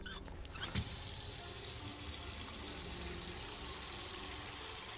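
A water tap runs steadily into a sink in the Scary Autopsy Simulator game, the stream starting after a brief moment and then holding a constant, fairly loud rushing gush.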